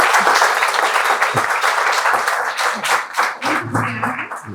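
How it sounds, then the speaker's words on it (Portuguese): An audience gives a dense burst of clapping for an industry guest speaker at an event, loud and close, tapering slightly with a voice coming in near the end. "palmas!"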